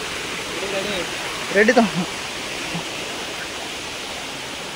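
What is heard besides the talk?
Baba Jatadhari waterfall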